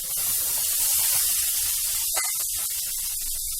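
Cooked rava balls drop into a hot pan of tempering, setting off a loud, steady hiss and sizzle that sputters and crackles more sharply partway through, with no voices.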